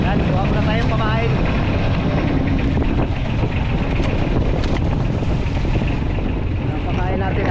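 Strong, steady wind roars across the whole clip with broad rushing noise, as on open water, while voices talk underneath.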